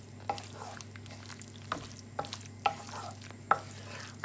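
Lamb mince and potatoes are stirred together in a pan for keema aloo, with quiet scattered spoon knocks and scrapes over a faint, low sizzle; no one talks.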